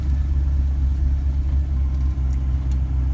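A 1988 Land Rover Defender 127/130 idling while warming up, its engine giving a steady, loud, low rumble that holds even throughout, heard close with no talking.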